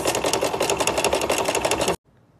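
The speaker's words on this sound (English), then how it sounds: "now we are sewing them into pillows" Sewing machine stitching pillow fabric with pinned right sides together, a fast steady mechanical rattle of the needle running continuously for about two seconds, close and loud, then stopping abruptly into near silence.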